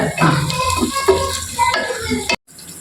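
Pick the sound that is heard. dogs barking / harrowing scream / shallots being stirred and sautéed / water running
shallots being stirred and sautéed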